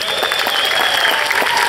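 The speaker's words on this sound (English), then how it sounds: "get a big round of applause" Audience applause at an outdoor municipal band concert, loud and sustained clapping from a crowd with a steady, dense texture throughout the short stretch.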